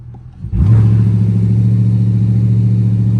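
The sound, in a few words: Dodge Charger RT accelerating hard using launch control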